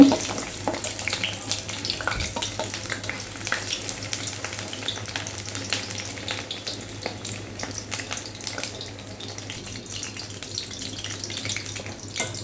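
Pumpkin leaf fritters with a fish filling frying in oil in a pan make a constant, close crackling sizzle with frequent small pops that continue evenly throughout.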